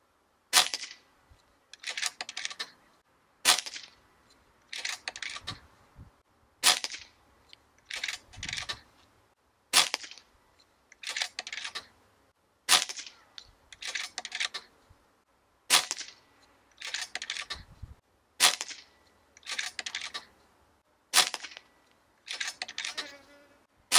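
A Niksan Ozark W .177 PCP air rifle fires repeatedly at low power, each sharp crack coming about every three seconds with a brief rattling tail, close and loud.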